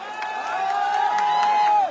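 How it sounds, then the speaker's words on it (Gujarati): Crowd at a Gujarati political rally cheering and clapping, a swelling mix of shouts and applause that grows louder toward the end, with a sustained rising voice carrying over the noise. "તાળીઓથી વધારો સાહેબ."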